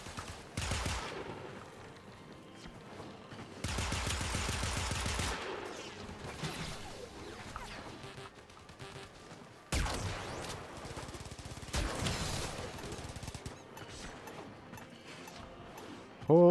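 Bursts of rapid automatic gunfire in Warframe, dense rattling volleys of several seconds each separated by quieter gaps filled with clanks and ambient effects.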